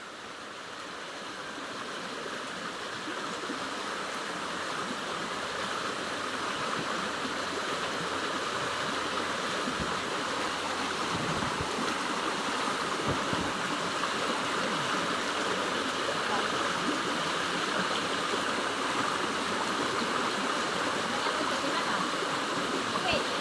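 Continuous babbling of a mountain stream, close up, a steady rush of water that grows slightly fuller; a brief low thump near the middle.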